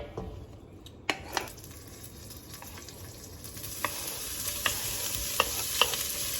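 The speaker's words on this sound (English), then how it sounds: "We're gonna add our bacon to this Dutch oven here and get it started." Thick-cut bacon sizzling in a little oil in a Dutch oven, a steady close crackle with sharp spatters and occasional clinks and stirring sounds over the constant frying hiss.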